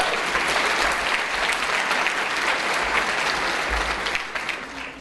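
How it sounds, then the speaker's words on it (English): A conference audience applauds a keynote speaker at a women's business event, steady dense clapping filling the room for about five seconds before tapering slightly at the end. "Please give her a round of applause."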